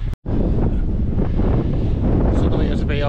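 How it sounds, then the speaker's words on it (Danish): Strong wind buffets the microphone atop the Esterhøj hilltop, a steady loud roar of gusts that continues almost without pause, broken only by a very brief dropout near the start. "jeg har vinden stående direkte ind i ansigtet."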